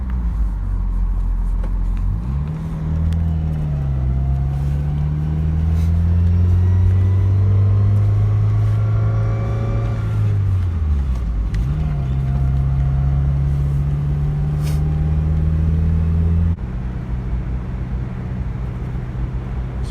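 A Mazda Miata engine runs after its clutch slave and master cylinders were replaced: a close, steady idle that swells into a sustained rev, dips, rises again and then settles back to a lower hum.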